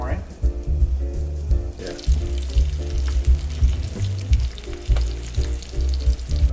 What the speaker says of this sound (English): We have fried up the smelt, and Mariana has done a great job flouring them.